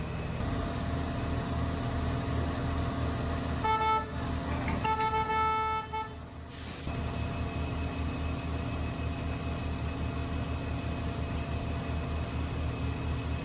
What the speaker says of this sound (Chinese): 然后货车往后倒就 OK 了